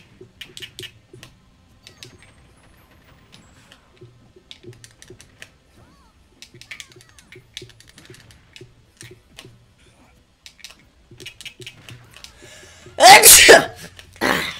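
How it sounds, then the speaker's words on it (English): One sharp, loud sneeze bursts out near the end of Super Smash Bros. Ultimate play, after a stretch of soft keyboard and controller clicks and a person talking quietly. "That sneeze got me messing up"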